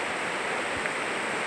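A river runs through a forest, its water rushing in a steady, even wash that fills the whole stretch without a break, fairly close and with no voices.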